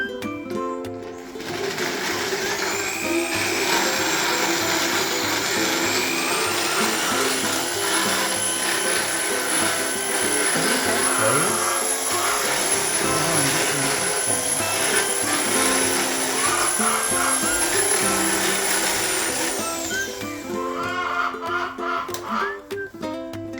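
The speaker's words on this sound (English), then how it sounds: "power tools. Yep." Loud, continuous whirring and grinding of power tools floating a horse's teeth at a ranch, running for a long stretch, with a high whine sustained through the middle.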